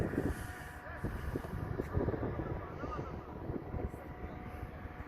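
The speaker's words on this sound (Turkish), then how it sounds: "Düne nazaran hava daha kapalı ve esiyor." Wind blowing on an overcast day at an outdoor football training ground, a steady rumbling gusty buffeting on the microphone, loud and close, with faint voices in the background.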